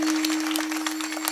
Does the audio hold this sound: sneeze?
no